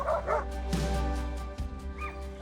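A noisy pack of rescue dogs at a no-kill shelter in Costa Rica, several close by, letting out rapid overlapping yips, barks and whimpers that come in short bursts with no pauses between them.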